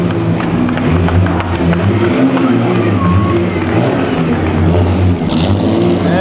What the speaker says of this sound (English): Maserati.